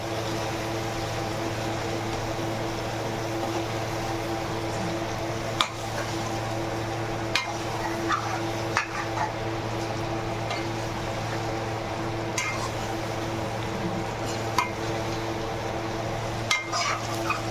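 Stuffed brinjal curry being stirred in oil in a pan, a low steady simmer with occasional sharp clicks and scrapes of the spoon against the pan, under a constant background hum.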